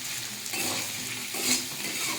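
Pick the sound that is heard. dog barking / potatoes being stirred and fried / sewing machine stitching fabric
potatoes being stirred and fried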